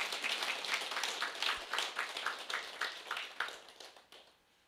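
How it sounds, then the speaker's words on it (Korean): An audience at a Korean Atomy business seminar claps steadily, with dense rhythmic bursts that swell briefly and then fade away near the end. "박수 한번 쳐주세요"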